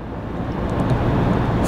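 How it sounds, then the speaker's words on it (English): A Chevy Colorado TurboMax pickup cruises at about 70 mph and low RPM, giving a steady, muffled engine drone mixed with road and wind noise inside the cab. "you can hear the engine a little bit more"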